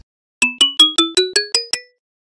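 Eight bright xylophone bars struck with mallets in quick even succession, an ascending run of clean ringing notes, each decaying briefly, alone and close.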